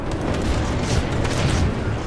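Cannon artillery fires in a tank war simulator game, a dense run of loud overlapping booms and rumbling blasts that continue without a pause.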